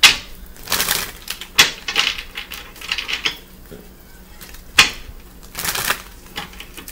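Crisp, rapid riffling bursts of tarot cards being shuffled, several rounds separated by short pauses, close and clear.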